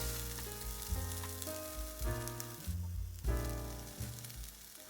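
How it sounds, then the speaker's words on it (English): Onions fry in a pan for an Indian tofish curry, a steady close sizzle broken by a few bursts of scraping and stirring. "Stir every couple minutes so that the onion doesn't burn. Cook till the onions are translucent,"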